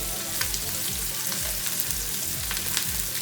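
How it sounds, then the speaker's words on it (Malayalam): Fish frying in oil in a pan for a Kerala banana-leaf packed lunch, giving a steady close sizzle with crackling pops throughout and no talk. "നമുക്ക് അല്പം എണ്ണ പാനിലേക്ക് ഒഴിച്ച് നമ്മുടെ മീനിനെ"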